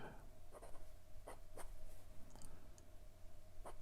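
An Artimber Octagon fountain pen with an extra fine Schmidt steel nib scratches across paper in a few short, faint strokes, quiet and close over a low background hum.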